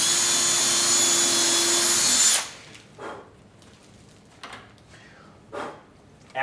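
A cordless power drill pre-drills holes for a door lock installation, whining loud and steady for about two seconds before cutting off, followed by a few faint knocks and handling sounds.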